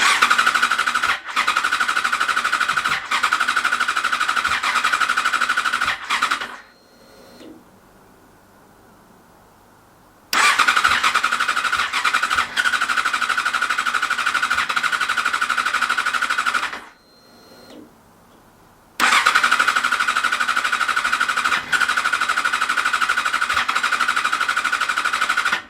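A Yamaha FZ6 Fazer S2 motorcycle with a starting fault cranks in long, loud, rhythmic bursts, three separate attempts broken by short pauses, its engine sputtering and nearly catching without running.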